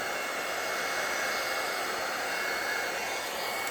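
A steady, loud hair dryer blows continuously over watercolor paper with a salted background, a constant broadband whoosh with no pauses or voices.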